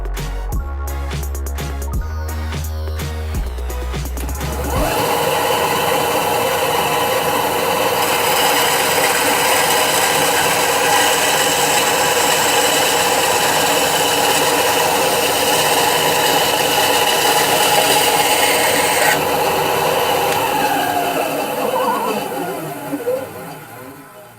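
A MasterCraft bandsaw cutting wood runs as a steady, loud whine with broadband rasp for about twenty seconds, after several sharp knocks of setup handling, then the blade winds down near the end.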